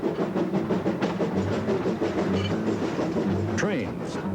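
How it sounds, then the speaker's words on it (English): An 1880s steam locomotive at Knott's Berry Farm rolls past with a continuous rumbling, clattering chug and hiss, loud and close, with a brief rising tonal sweep near the end. "Trains, such as this 1880s steam locomotive now in use at Knott's Berry Farm, helped open vast areas of the West"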